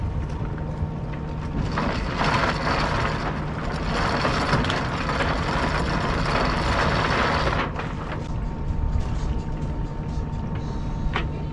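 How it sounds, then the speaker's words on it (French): A sailboat's engine runs on a Mediterranean cruise near Bandol, giving a continuous loud mechanical rumble mixed with broad wind and water noise. The noise eases slightly toward the end. "Je vais allumer le moteur"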